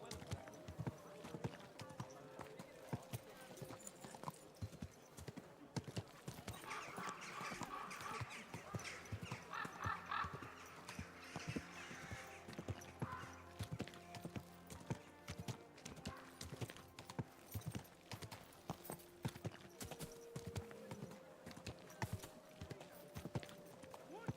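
Steady clip-clop of horse hooves in Kingdom Come Deliverance II, a continuous rhythmic trot of footfalls over a long stretch, mixed with game ambience and occasional snorts.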